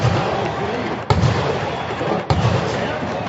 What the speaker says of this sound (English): And the cannons are going off.